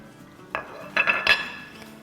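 Whole spices such as nigella seeds and dried red chillies being mixed into mutton in a pot, heard as a few short metal clinks and scrapes of a spoon against the pan, close and clear, with no talking.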